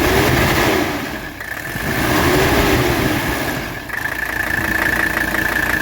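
A 1985 Mercedes 300SD diesel engine idles steadily, its pitch rising and falling in two slow revs, loud and close with a constant whine overhead.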